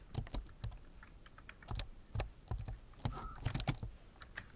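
Fingers tap out text on a computer keyboard while filling an Excel cell, giving quick irregular clatters of keystrokes in bursts with brief pauses, close and clear, no talking.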